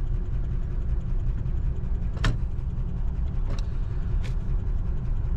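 A 1940 Cadillac Series 60 Special Fleetwood engine idles with a low, steady rumble, broken by three sharp clicks or taps spaced a second or so apart.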